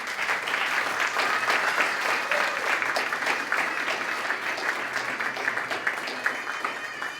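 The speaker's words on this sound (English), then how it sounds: "there we go, the biggest cheer" An audience at a library branch grand re-opening applauds with dense, sustained clapping for several seconds, loud and close, with a few voices mixed in.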